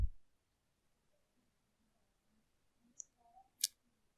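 A couple of sharp computer mouse clicks ring out near the end of an otherwise quiet stretch, faint and isolated, with a brief low thump at the very start.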